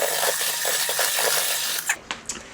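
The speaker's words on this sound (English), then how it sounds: "just going to whisk this up a bit more" Whisk beating cake batter in a bowl, a continuous close scraping, rubbing rhythm that stops near the end, followed by a few light taps against the bowl.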